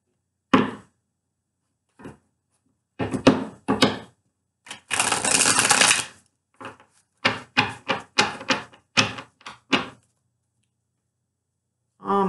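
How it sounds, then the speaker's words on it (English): Tarot cards shuffled in short bursts of riffling and bridging, close and fairly loud, with one longer continuous riffle in the middle and quiet gaps between the bursts. "One more shuffle, please."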